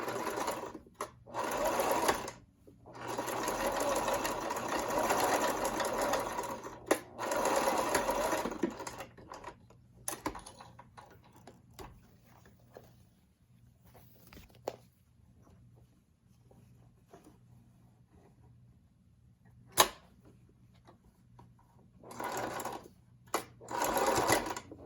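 Sewing machine stitching a cloth face mask, running in several loud bursts with pauses between and faint quieter handling noises in the gaps.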